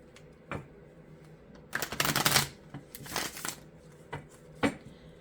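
Tarot cards are shuffled close up in a pick-a-card reading, with a couple of papery riffling bursts among scattered soft taps and card handling.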